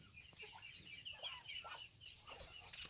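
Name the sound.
chickens clucking in rice field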